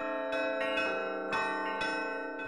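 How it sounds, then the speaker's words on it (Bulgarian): Several monastery church bells, weighing three tons in total, ring in overlapping strokes, each strike blooming into a long sustained metallic hum, steady and fairly close with no voices. "Камбаните тежат общо 3 тона, монтажът им отне цял месец."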